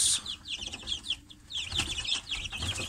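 Young chicks, less than twenty days old, chirp in rapid high peeps with occasional clucks, a busy overlapping flock heard close by with no talking.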